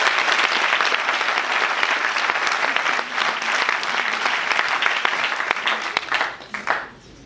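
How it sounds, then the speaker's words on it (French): Audience at a film premiere applauds loudly and continuously in a cinema hall, a dense sustained wash of clapping that thins and fades out near the end. "On fait applaudir."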